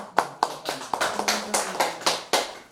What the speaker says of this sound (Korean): 다시 한번 여러분 박수로 한 힘을 주세요